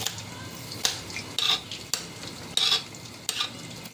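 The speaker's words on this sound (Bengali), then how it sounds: "এই পেঁয়াজ দিয়ে দিলাম পেঁয়াজ কুচিগুলো দিয়ে দিলাম" Chopped onions fry in a pan for a quick chicken dish, a soft sizzle under repeated sharp scrapes and clinks of a spatula against the pan, about five stirring strokes close up.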